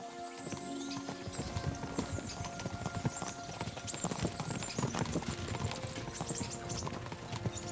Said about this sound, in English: It's like everyone's getting their horses mounted.